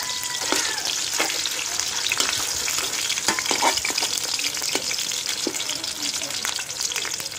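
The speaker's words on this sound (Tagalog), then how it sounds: "At pagkatapos nating mailagay lahat ng suman, mga katambayers, sa kawali, ibaling-baling natin ang dahan-dahan" Suman glutinous rice cakes sizzling steadily in oil in a pan while being turned slowly, with a dense, continuous frying crackle and soft scraping clicks from the turning, no talk.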